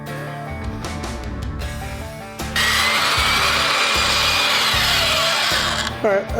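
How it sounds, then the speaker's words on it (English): A power saw cuts through a forged damascus steel billet in a blacksmith's shop, beginning with intermittent knocks and grinding, then settling into a loud, continuous, harsh cutting whine that carries on steadily to the end. "I cut a little bit more than 3/4 of the way through"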